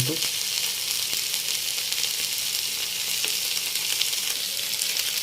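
Drumstick leaves fry in a pan over a low flame, giving a constant, dense hiss and sizzle with no breaks.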